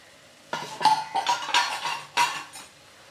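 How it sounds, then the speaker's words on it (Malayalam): Masala with yogurt, coriander and mint is sautéed for beef biryani, a few bursts of spoon scraping and clattering against the pot over a faint sizzle, close and fairly loud, with short pauses between strokes. "ഇവ ചേർത്ത് വീണ്ടും ഒരു 2 മിനിറ്റ് നന്നായിട്ട് വഴറ്റി കൊടുക്കാം"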